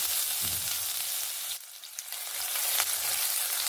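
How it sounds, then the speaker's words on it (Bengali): Loud, crackling sizzle of crushed garlic frying in hot mustard oil, briefly dipping before the spattering hiss builds again. "রসুনটাকে হালকা করে একটু ভেজে নেব"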